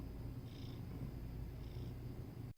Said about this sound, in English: You're very loud. I hear you purring.